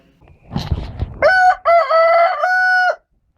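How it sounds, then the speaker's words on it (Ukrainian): A rooster crows loudly and close by in one long, drawn-out call, preceded by some rustling noise. "Ну, звичайно, це півень."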